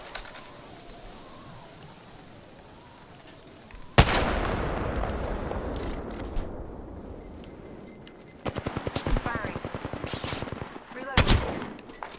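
Heavy rifle shots from a Kraber sniper rifle in the Apex Legends shooter game, sharp loud cracks with echoing tails, followed later by bursts of rapid gunfire and impacts, with a brief voice in between.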